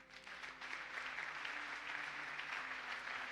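A church congregation applauds during a Pentecost service, steady sustained clapping from a crowd filling the space, moderately quiet and even throughout.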